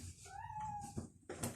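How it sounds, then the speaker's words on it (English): Two hungry cats meowing for breakfast indoors: one clear, drawn-out meow rises and falls, followed by a few softer, shorter cat sounds. The sounds are fairly faint and there is no talking. "I have 2 cats here that are desperate for their breakfast, but they have to wait"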